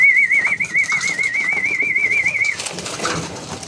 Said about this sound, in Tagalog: Ito yun, yung ibon natin si Bad Girl.